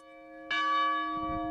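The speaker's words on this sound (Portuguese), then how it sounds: "Estava aqui e começou a tocar o sino da cidade." A city church bell in Curitiba strikes at noon, one loud clear toll ringing out and sustaining with a long fading hum, no voices present.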